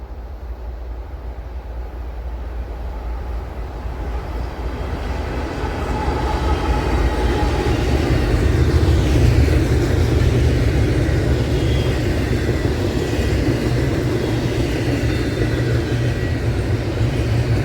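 Norfolk Southern intermodal freight train NS 258, led by locomotive NS 3616, rumbles past nearby, the roar of wheels and cars building steadily and staying loud as the wagons roll by.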